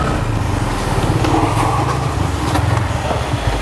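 A Yamaha XSR 155 retro motorcycle is ridden, its small single-cylinder engine giving a steady, loud, close-up hum with slight rises in revs throughout.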